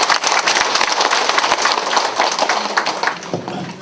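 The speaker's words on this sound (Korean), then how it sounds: "신부님께 큰 박수 부탁드립니다" An audience applauds to welcome a priest at a spiritual school session in a Catholic centre: dense, crackling clapping from many hands that stays loud and steady for a few seconds, then fades slightly.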